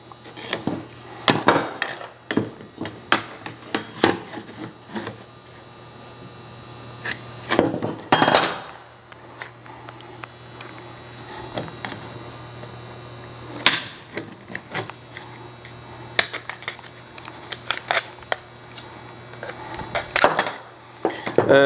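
A piece of aluminium siding is handled and cut, giving off irregular metallic clicks, snips and sharp clanks that come in scattered bursts, close and fairly clear, with quiet stretches between them.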